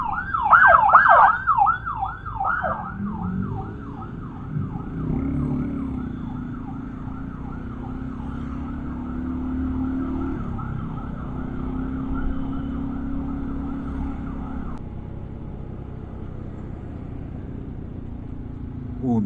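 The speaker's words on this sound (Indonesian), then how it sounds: "Ada ambulans." An ambulance siren wails on a busy road near the Padalarang exit outside Bandung, loud rapid yelps easing into a steady sweeping cycle over a low traffic and engine hum.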